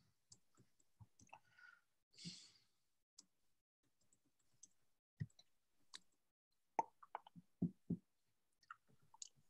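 Soft, faint keyboard typing during an online EventStorming workshop session, irregular bursts of light clicks and taps with pauses between, close to the microphone and otherwise quiet.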